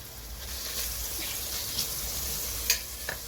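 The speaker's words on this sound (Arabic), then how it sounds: "قطع اللحم اللي عندنا نخلوها تتقلى" Meat pieces fry in butter and margarine for a sweet Moroccan meat tagine, giving a steady, close sizzle with occasional soft stirring clicks and small pops.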